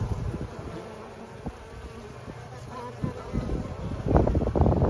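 Honeybees buzzing at the entrance of a Layens hive as foragers bring in pollen, a close, steady insect drone with occasional louder passes and thuds, swelling toward the end.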